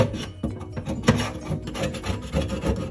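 Old plumber's putty is scraped off the edge of a sink while an InSinkErator garbage disposal is being replaced, making close, steady, rasping scraping strokes with no talking.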